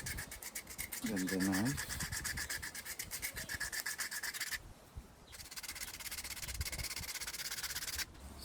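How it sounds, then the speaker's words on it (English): Sandpaper wrapped on a thin board rubs back and forth over a wooden Y-branch slingshot in steady rasping strokes, close and continuous with one brief pause, while a voice briefly speaks early on. "it's better to use some thin board with the sanding paper"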